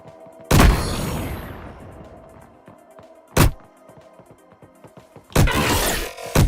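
Gunfire in an Unreal Engine video game: three loud, sharp blasts at irregular intervals, each with a ringing tail, over quiet ambient background with no voices.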